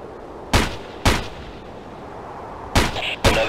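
Gunfire in the Ghost Recon Island Thunder video game: four loud, sharp shots in two spaced pairs, each ending in a short echoing tail over a low ambient background.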